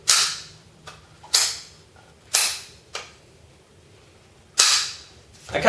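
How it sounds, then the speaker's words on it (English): The selector switch of an SRC Beta Spetsnaz airsoft AK gives several sharp, loud mechanical clicks at irregular intervals, each snapping crisply and fading quickly. "It has a signature AK click to it."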